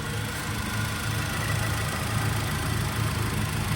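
A car engine idling at an auction lot on a rainy day, a steady low rumble with even vibration, close and fairly loud, running alone without talk.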